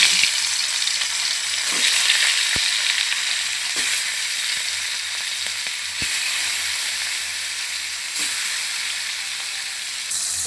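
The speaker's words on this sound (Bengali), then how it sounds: "এখন আমি ইলিশ মাছটা ভেজে নেব তো এইখানে আমার তেলটা গরম হয়ে আসছে আমি এখন মাছটা দিয়ে দিব" Hilsa fish frying in hot oil in a pan, giving a steady, close hiss and crackle throughout, with a few sharp knocks of a utensil against the pan.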